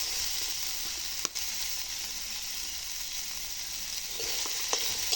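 Chutney of coconut, chana and peanuts sizzling steadily in a frying pan as salt goes in, with a few light spoon scrapes while it is stirred; no one speaks.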